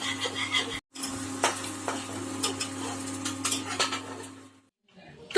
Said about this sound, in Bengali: আগে কাজু ভাজা।